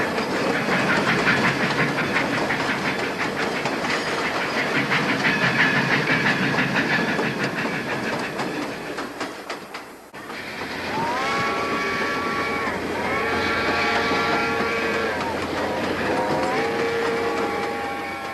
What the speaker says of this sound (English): The sound effects by Thomas J. Valentino used for the trains chuffing, bells ringing, and whistles blowing sound tasty to my ears.